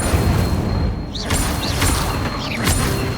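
Incendio fire spell cast in the Hogwarts Legacy video game, a dense roaring whoosh of magical flame and rumbling impacts that fills the whole clip, loud and close, with brief whistling flourishes.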